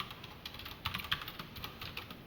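Typing on a computer keyboard while writing HTML and CSS code: soft, quick irregular key taps close by, a few slightly louder strokes in the middle, no voices.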